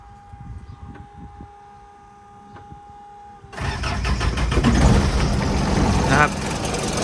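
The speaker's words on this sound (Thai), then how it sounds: "เดี๋ยวผมจะสตาร์ทให้ฟังนะครับ สตาร์ทตุ่มครั้งเดียวติดนะครับคันนี้" An Isuzu NKR medium truck fires up on the first try after quiet moments with a voice, then settles into a loud, steady diesel idle close by.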